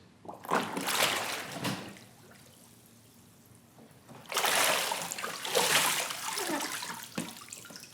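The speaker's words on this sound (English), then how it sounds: "Once it's in the water, we'll submerge it to the bottom, then we'll release it." A plastic tool box is plunged into water during a durability test, with bursts of sloshing and splashing that swell, fade to a low murmur, then surge again in churning waves.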